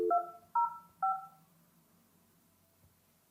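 A Yealink CP930W wireless conference phone plays three clear dialing tones in quick succession, followed by near silence.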